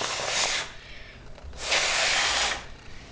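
Air puffed from the mouth into a folded paper balloon to inflate it, heard as two close, breathy hissing bursts separated by a short pause, with no talking.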